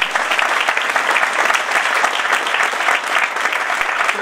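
An audience at a business presentation breaks into sustained, dense applause that holds steady and loud throughout.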